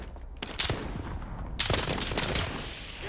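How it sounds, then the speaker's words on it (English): Rapid gunfire bursts crackle in the Rebirth Resurgence video game, with two dense volleys of close, sharp shots and echoing reports. "Taking fire!"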